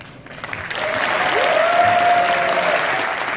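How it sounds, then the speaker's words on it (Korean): Loud, swelling applause from a concert audience at a Korean traditional music performance, dense continuous clapping building up and holding steady, with a faint tonal sound running beneath it. "박수들을 아주 참 잘 치시네요"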